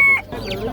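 Young chicks and fowl at a busy poultry market, with sharp high peeps and clucks up close over a low murmur of the crowd.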